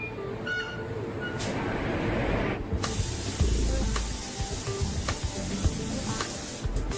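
A spray gun applies paint to a Koenigsegg Agera body part in a factory paint booth, giving loud hissing bursts that start and stop, with a long sustained spray in the middle.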